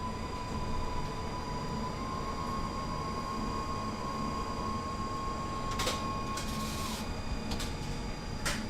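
R2.2b tram running in the TramSim video game, giving a steady rumbling rail hum with a sustained whine that holds and then drops, broken by a few sharp clacks near the end.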